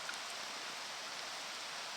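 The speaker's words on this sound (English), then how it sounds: "Fun stuff. Camping in the rain." Rain falling steadily at a riverside campsite, a soft continuous hiss that stays even throughout, with no voices.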